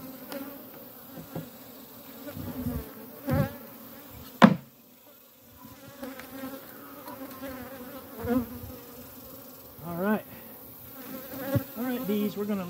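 Honey bees buzzing around a swarm trap and a newly set-up hive outdoors, a steady close drone with individual bees passing near and away, plus a few knocks and bumps.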